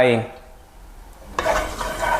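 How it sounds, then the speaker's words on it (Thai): A brief voice, then a quiet pause before fried-garlic oil heats over medium flame and bursts into a loud, steady crackling sizzle in a wok. "ให้เราตั้งกระทะจุดไฟใช้ไฟกลาง ใส่น้ำมันกระเทียมเจียวลงไป"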